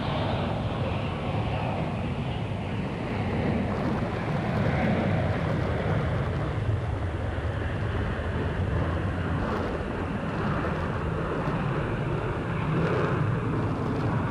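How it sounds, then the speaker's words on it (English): A JetBlue airliner takes off from runway 22 right at Boston Logan, producing a continuous, broad jet engine roar that holds steady and fairly loud for the whole stretch, with no voices over it. "JetBlue 2269, runway 22 right, clear for takeoff"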